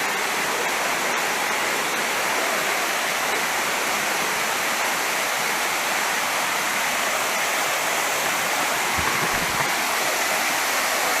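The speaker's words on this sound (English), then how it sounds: "This is the waterfall." Arekkal waterfalls roaring with a steady, dense rush of falling water that fills the whole scene, loud and close without a break.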